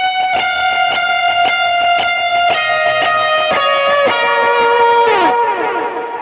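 Electric guitar lead tone on a worship song, driven with heavy reverb and delay, a bright melodic line of repeated picked notes with echoing tails, loud and close, ending in a bend that rings out.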